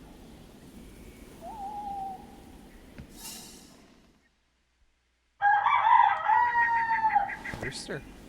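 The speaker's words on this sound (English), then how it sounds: "And the cock has crowed." A rooster crows in the video game The Witcher 2, loud and close, a long drawn-out call rising after a brief silence, preceded by a fainter owl-like hoot and soft ambient background.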